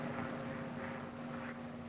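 A propeller airplane flying in a sideslip drones with a steady engine tone. The sound swells gently in slow pulses and fills the cockpit evenly, with no one speaking.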